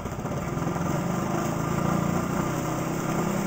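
An exercise bike drives an alternator to charge a bank of batteries, spinning up with little resistance and giving a steady, loud mechanical whir and hum with a faint rhythmic pulse and no talking.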